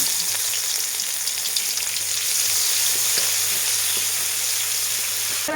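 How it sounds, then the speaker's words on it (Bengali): Green chili and onion sizzle in hot salted oil for a tempering while cooking a fish curry with pumpkin flowers and tomato, a steady close frying hiss with faint stirring clicks and no talk. "তারপর আমি ফোড়নে দিয়ে দেবো এই একটা কাঁচা লঙ্কা, আর দিয়ে দেবো পেঁয়াজ"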